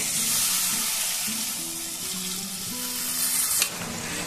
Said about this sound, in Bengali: এখানে যে আমি কড়াই ধোয়া জলটা রেখেছিলাম সেটা দিয়ে দিলাম